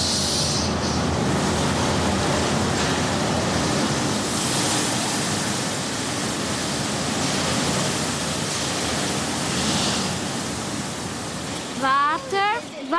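In a car wash with large brushes, loud, continuous rushing water splashes and sprays throughout, a dense roar that fades slightly near the end as a few squeaky voices cut in.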